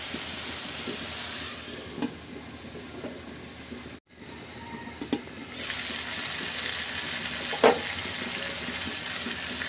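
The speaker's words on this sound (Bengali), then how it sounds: "আর একটু কষে নিই" Food being sautéed and stirred in a pan for a lentil and bottle gourd dal, giving a steady close hiss of sizzling with occasional scraping knocks that grows louder partway through.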